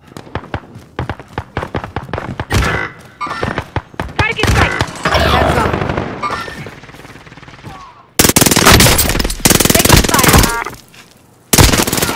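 Heavy automatic gunfire in Call of Duty Warzone Rebirth, with a PPSh and Cooper in use: dense, loud bursts crackle almost nonstop, swelling into sustained roaring volleys, with brief speech mixed in.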